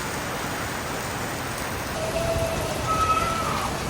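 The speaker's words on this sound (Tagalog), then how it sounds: "ngayon naman po ay malakas na po yung ulan" Heavy rain pours steadily during an outdoor Chinese New Year celebration, a dense, constant hiss of drops striking surfaces all around, with faint tonal whistles rising briefly over the downpour near the end.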